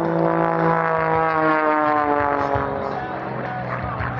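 Aerobatic propeller aircraft flying at the 2011 Fort Smith air show, a loud sustained droning engine with shifting pitch as it maneuvers overhead, filling the whole moment.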